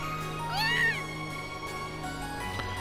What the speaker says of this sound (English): Hey, how'd a cat manage to get in here?